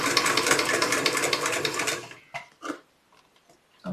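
Sewing machine stitching a dart in fabric, running steadily and fairly loud for about two seconds, then stopping, followed by a few soft handling knocks and clicks.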